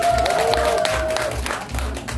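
Audience clapping at a Sunday afternoon pumba street-theatre show, a moderate burst of applause mixed with crowd noise and some voices.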